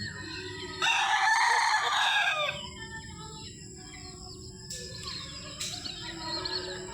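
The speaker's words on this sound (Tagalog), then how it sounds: "Ito ang mga manok ng kapitbahay namin dito." A neighbour's roosters crow in a long, loud, harmonic call that lasts almost two seconds, followed by fainter clucking and a shorter crow in the evening, over a steady low outdoor hum.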